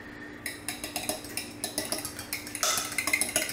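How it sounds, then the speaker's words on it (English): A fork or whisk clinks quickly against the bowl as eggs are stirred to break the yolks. The tapping is close and rapid, pauses briefly, then speeds up toward the end, with no talking. "We're just gonna give these a quick stir. We're just gonna break the yolks up"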